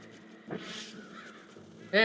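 In the video game Red Dead Redemption, a crow gives a short caw, then a louder, harsher caw at the end, with a voice talking faintly over the quiet game background.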